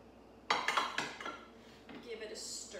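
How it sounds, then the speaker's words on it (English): Mushrooms and shallots for tom kha get stirred in a pot, a cluster of metallic clinks and scrapes near the start, then softer utensil rattling fading out. "Give it a stir to make those all come together"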